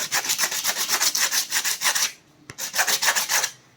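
A knife blade scrapes a coconut shell being prepared as a Sabarimala ghee coconut, with fast, rhythmic rasping strokes close by, a brief pause, then another burst of quick scraping, with no talk.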